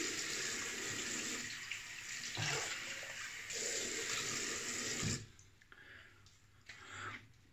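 A bathroom tap runs a cold water rinse after a shave, a loud steady splashing stream that breaks briefly and then stops near the end, leaving quieter drips and faint movement.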